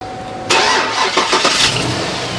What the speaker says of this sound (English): we started it up with the engine flush in there, and we're just going to let it idle for 15 minutes